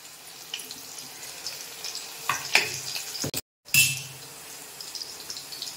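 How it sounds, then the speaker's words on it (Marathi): Three or four crushed garlic cloves fry in hot oil with a soft, constant sizzle, broken by a few louder stirring scrapes and one brief gap of silence. "तर तेल आपलं गरम झालंय, त्यामध्ये आता आपण लसूण पाकळ्या टाकल्यात, 3-4 लसूण पाकळ्या ठेचून टाकल्यात"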